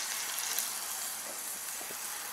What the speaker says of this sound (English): Of course it should start sizzling a little bit more because of the weight.